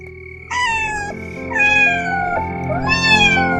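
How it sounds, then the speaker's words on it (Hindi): A cat lets out several drawn-out, wailing cries in a row, loud and close, with a steady low hum underneath. "बाहर किसी बिल्ली की चीख जैसी आवाज आई"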